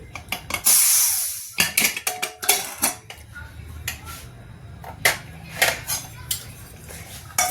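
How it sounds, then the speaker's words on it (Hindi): A metal lid clanks and scrapes against a pot of moong dal khichdi as it is opened, followed by a series of sharp clinks and taps of utensils at close range. "तो ये देखिए हम खोल रहे हैं अपनी खिचड़ी।"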